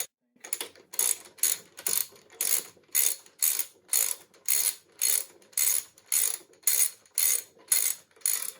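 A ratchet wrench tightens fasteners on a Lycoming O-360 aircraft engine case, giving a steady series of about fifteen crisp clicking bursts, close and fairly loud, with no talking.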